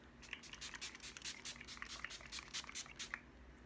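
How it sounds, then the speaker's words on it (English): Repeated short hissing sprays of Too Faced Hangover 3-in-1 setting spray, several quick bursts in an irregular rhythm, close and fairly quiet with no talking. "I'm just gonna put on a little Too Faced Hangover 3-in-1 Setting Spray"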